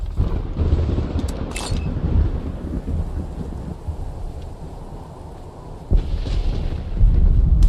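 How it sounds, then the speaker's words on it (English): A grenade launcher explodes in the video game Fallout 76, making a loud, rumbling boom that rolls on for several seconds, with a second heavy burst near the end. "I love this grenade launcher."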